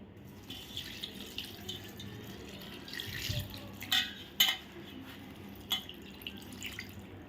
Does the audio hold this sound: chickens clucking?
no